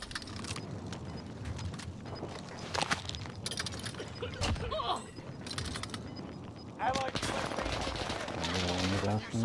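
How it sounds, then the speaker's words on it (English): Bursts of automatic gunfire and single shots in the video game Warzone, some distant and some close, with voices talking over the shooting. "Where the fuck are they shooting from?"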